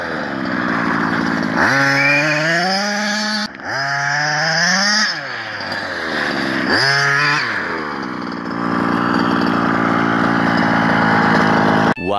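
Gas-powered HPI Baja RC cars on studded winter tires drag race, their small two-stroke engines revving hard in repeated rising whines with brief drops between runs, loud and close throughout.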